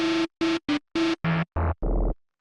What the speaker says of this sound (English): That's why I called them FM sounds, because it's FM synthesis